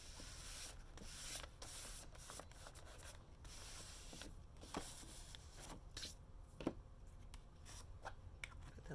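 A fingertip rubs down a sheet of paper in an altered book, giving soft, close, quiet brushing strokes with a few light crinkles and taps in between.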